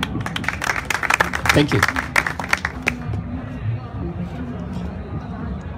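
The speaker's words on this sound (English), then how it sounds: "Give him a round of applause." Applause for a speaker at an English language club meeting in Sudan: scattered, crisp claps from a small audience over about three seconds that thin out and stop, after which someone briefly speaks.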